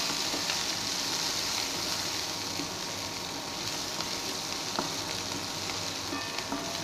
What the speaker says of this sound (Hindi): बस इसे 1 से 2 मिनट के लिए ही हमें तेज़ आंच पर भुनना है